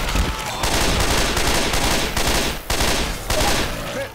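Rapid bursts of gunfire in a Left 4 Dead shootout, several loud close volleys separated by brief gaps, a dense fusillade of shots.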